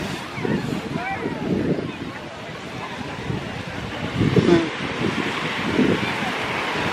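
Ocean waves wash onto a beach in Tenerife, surging in several broad swells under steady wind buffeting the microphone, close and fairly loud.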